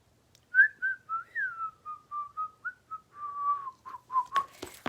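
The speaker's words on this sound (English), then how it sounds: "I was just whistling." A single person whistles a slow, wavering tune of about a dozen sustained notes, rising and falling in a gentle melody, close and clear against near silence, with a few sharp clicks at the end.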